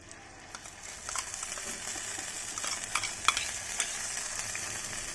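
Coconut oil with aloe vera gel and powder cooking in a pan on a low flame gives a soft, steady sizzle, with scraping stirring strokes and small crackles throughout and no speech.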